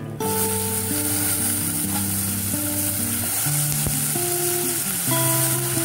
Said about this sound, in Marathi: आता हांव ऍड करता भेंडे